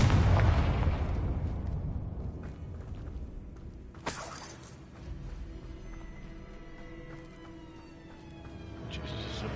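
Confringo blasting spell explosion in Hogwarts Legacy, one sharp blast with shattering debris partway through, trailing into rumbling low ambience with faint game sounds.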